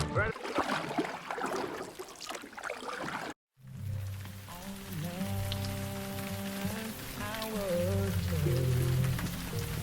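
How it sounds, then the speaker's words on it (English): A rain squall falls on a river around a kayak, a dense steady patter of drops on the water and boat. After a brief cut, music with held tones plays over the continuing rain. "Got our first little rain squall coming through."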